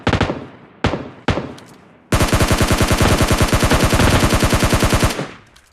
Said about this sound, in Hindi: बोट चचा के पास देखो फायरिंग हो रही है सामने